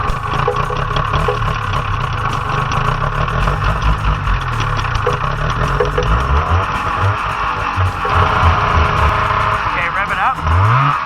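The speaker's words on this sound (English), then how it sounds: "Okay, rev it up." A cheap used snowmobile's engine runs loud and close, with uneven revs rising and falling over a rough idle, while people talk over it.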